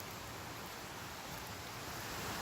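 Rain falls steadily outdoors as a soft, continuous hiss of drops, faint and even throughout with no voices.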